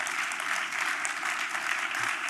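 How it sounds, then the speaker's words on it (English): Legislators and guests at a joint session of the New Mexico Legislature applaud in a steady, even roll of clapping heard from a moderate distance. "You should clap about that because you all had a lot to do with that"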